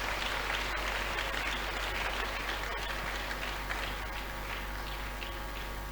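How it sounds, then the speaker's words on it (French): A congregation at an evangelistic crusade in Douala claps steadily, a dense, continuous wash of many hands that holds at an even level for the whole stretch, with no voices standing out. "Let's clap to Jesus as they come."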